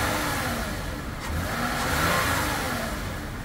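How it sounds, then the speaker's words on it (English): A 2007 Lexus ES350 with nearly 300k miles revving its engine, a loud, close, steady roar that swells slightly midway before easing back. "Let's rev her up."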